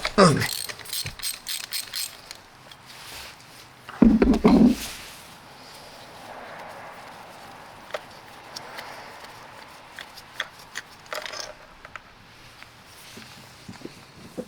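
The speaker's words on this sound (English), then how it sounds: "Install a ratchet and loosen it." A ratchet loosening a spark plug on a 2001 Jaguar XJR, with a few loud clicking ratchet bursts near the start and middle, then quieter intermittent mechanical clicks and handling noises close by.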